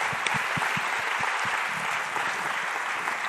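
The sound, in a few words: audience applause at forum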